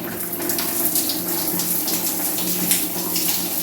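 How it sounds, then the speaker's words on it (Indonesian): A water tap runs at full flow, a steady loud gushing splash that holds constant throughout, close by with no talking. "Debit airnya tetap sama ya, tetap full ya."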